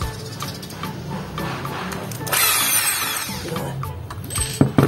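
An HSS titanium-coated drill bit bores through iron with a steady whine, then a harsher grinding burst midway and a few sharp clicks at the end.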